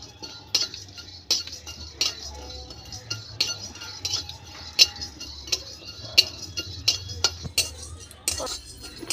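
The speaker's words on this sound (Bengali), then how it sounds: "অল্প আগুনে এই মশলাগুলো হালকা করে ভাজতে হবে, বেশি আগুন দিলে পরে পুড়ে যাবে, সেজন্য অনবরত আমি নেড়ে যাচ্ছি" Whole spices fry in a wok over a low flame for egg do-pyaza while a metal spatula scrapes and taps against the pan in repeated sharp clinks, close and clear over a quiet hiss.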